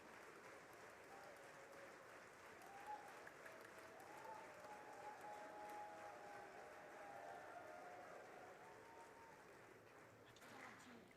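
Legislators clap in a crowded chamber, a faint, distant, continuous wash of applause with a murmur of voices underneath, steady throughout.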